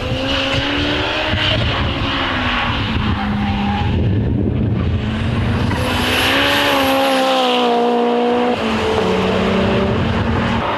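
Turbocharged Honda S2000 and Mazda RX-8 racing on a circuit, engines droning loud and continuous with rising and falling pitch as they drive hard out of a corner, with a brief tyre skid.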